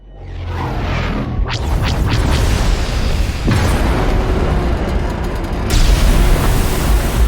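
Incoming fire hits a transport ship in Star Wars: The Old Republic: loud, sustained rumbling explosions and booms, with a heavy blast near the middle and another surge toward the end, dense and close.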